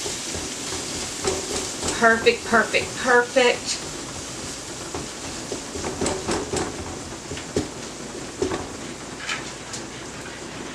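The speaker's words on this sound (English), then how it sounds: "Okay, sizzling in here." Mexican pasta sizzles in an electric skillet, a steady broadband hiss running beneath a person talking near the pan.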